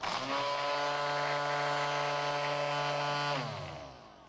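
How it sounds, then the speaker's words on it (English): WORX WG150 battery string trimmer running up to full speed, its nylon line clattering against the line cutter: a loud, steady high-pitched whirring buzz for about three seconds, then winding down and fading, with no talk. "A clattering noise will be heard when the line hits the line cutter."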